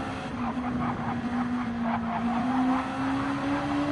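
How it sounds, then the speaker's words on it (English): A race car engine whines at a steady high pitch while tyres squeal faintly in the background, heard from a distance amid crowd and track noise. "Just hear the tyres squealing there."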